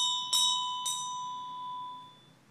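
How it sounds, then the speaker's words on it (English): A small ritual bell struck twice during a Buddhist Amitabha inscription ritual for the deceased, each bright ring leaving a long, clear sustained tone that slowly fades in a quiet room. "the bell is rung as a way of wishing for the auspiciousness for the deceased"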